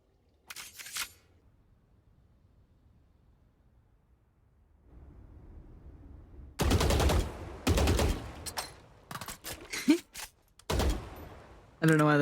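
Rifle fire in Valorant during a pro Team Liquid vs Navi match: loud, sharp bursts of several shots in quick succession from about 6.5 seconds on, each followed by short echoing tails, after a quiet stretch with a few faint clicks.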